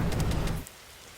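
Steady rain with a low rumble of thunder in the video game 99 Nights in the Forest, a loud dense wash that cuts off abruptly after about half a second, leaving near silence.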